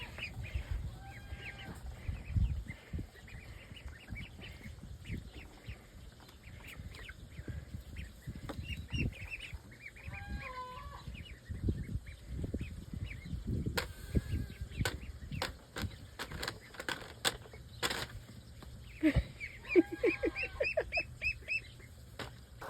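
A duck on a farm quacks and calls intermittently near fly paper, with other fowl chattering faintly in the background and scattered clicks and knocks around the barnyard.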